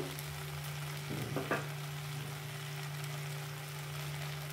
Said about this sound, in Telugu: మీడియం ఫ్లేమ్లో ఒక 2 నిమిషాలు అలా ఫ్రై చేశాను.